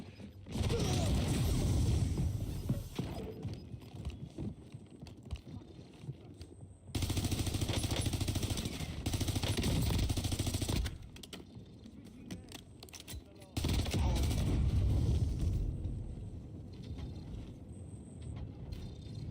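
Video game gunfire rattles in loud bursts, sustained stretches of rapid automatic shots broken by quieter gaps, with faint background game sounds between volleys.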